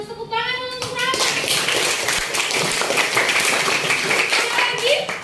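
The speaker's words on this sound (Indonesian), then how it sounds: "Bagus, tepuk tangan untuk Rama" A class of children applauds a classmate during an Indonesian school lesson. The clapping is dense and continuous after a brief opening of voices, and children's chatter runs through it.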